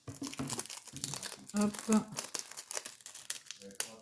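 Sewn paper packaging is crinkled and torn open by hand during an unboxing, producing a string of close, crackling rips and rustles while a person speaks over the handling.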